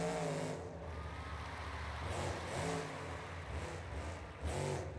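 A car engine in a driving video game, faint and steady, rising and falling in rapid revving swells while the vehicle drives around, with no talking.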